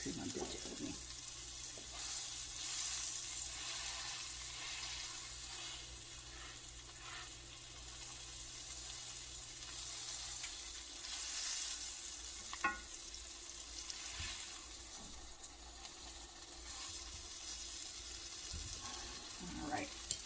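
Chuck roast sizzles and fries in a Dutch oven, a steady soft crackle with occasional clinks and stirring knocks, fairly quiet throughout.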